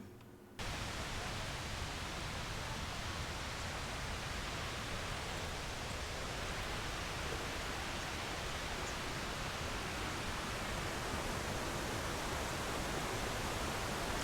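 Kroeng Krawia waterfall in Sangkhla Buri, Kanchanaburi, roars as a constant broadband wash of falling water, beginning abruptly after a brief quiet moment and holding a steady, moderately faint level.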